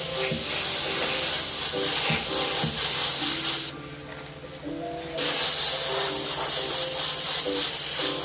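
An airbrush sprays paint over a stencil onto a T-shirt, a loud, close, continuous hiss that cuts out for about a second and a half before resuming steadily, with faint music underneath.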